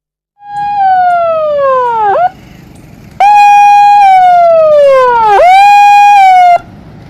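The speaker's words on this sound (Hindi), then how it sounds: "सायरन बज रहा है" A loud electronic warning siren wails in repeated falling sweeps by a river during flooding rains, each ending in a quick rising chirp, very close and alone.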